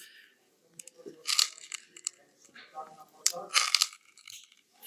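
Close, gritty crunching and cracking as a defective ESAPI ceramic armor plate is twisted, in several uneven bursts with short pauses between.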